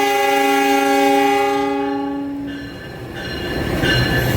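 A CC 206 diesel locomotive, number 1357, hauling the Tambahan Gambir–Yogyakarta train passes close by, sounding a loud, steady multi-tone horn over rumbling wheels; the horn fades after two seconds as the train noise continues.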